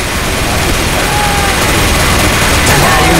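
Team Fortress 2 gunfire, a loud, relentless wall of overlapping shots and minigun-like rattling that never lets up, with voices shouting faintly underneath.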